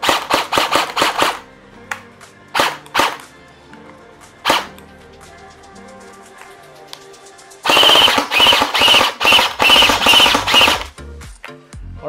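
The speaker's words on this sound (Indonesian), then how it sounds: "Jom kita tembak dulu sebab dia tak ada mag prime lah." IdolToys AKS74U toy blaster firing: loud single shots spaced apart, then a rapid burst of repeated shots, all close and sharp with a mechanical whir between.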